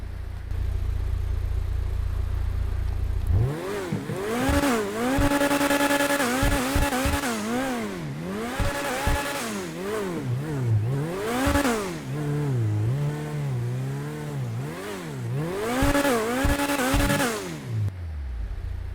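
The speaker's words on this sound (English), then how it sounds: "we'll turn up the volume here and rev it up a bit for you guys so you can hear it." A fully upgraded Vapid FMJ sports car in GTA 5 Online revs repeatedly, rising and falling in sharp bursts with a loud raspy exhaust, close up and continuous for most of the stretch.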